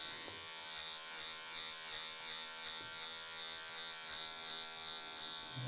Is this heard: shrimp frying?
no